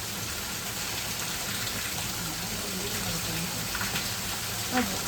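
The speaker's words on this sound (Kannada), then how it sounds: "ಮಳೆ ಬಂತು ಆಯ್ತಿದ ಭಾಳ ಮಳೆ ಯಾಕಂದ್ರೆ ಗಾಳಿ ಎಲ್ಲ ಬಂತು" Heavy rain driven by wind pours down in a dense, steady hiss that stays even and unbroken throughout, with a few faint knocks near the end.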